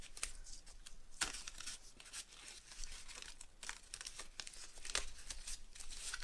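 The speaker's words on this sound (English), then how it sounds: "get your piece of masking tape, and tape it. Tape it in place." Masking tape being torn and pressed onto a paper mache troll, giving close, quiet crinkling and short tearing rips at irregular intervals throughout, with no talking.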